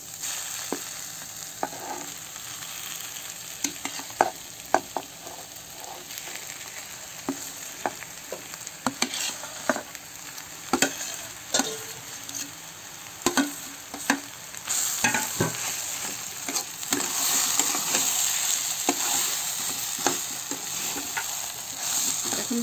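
Mashed potato is stirred into a sizzling, frying spice paste for samosa-style filling, with a steady low sizzle broken by frequent sharp scraping and clacking strokes of a spoon in the pan, close and continuous.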